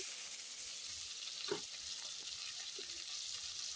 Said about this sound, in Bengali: টমেটোটা ভালো করে নাড়াচাড়া করে নিলাম